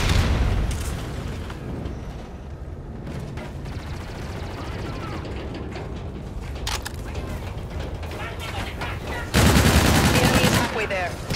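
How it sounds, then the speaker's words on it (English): Trinity Rocket strike explosions in the Call of Duty Infinite Warfare game: a dense run of gunfire and rumbling booms, ending in a loud, sudden blast burst near the close, with game voices mixed in. "Our Trinity rocket arriving on site."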